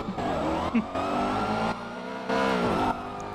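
Vehicles braking in GTA V, with a steady engine drone and tire noise that rises and shifts in several sustained segments, loud and close, no voices.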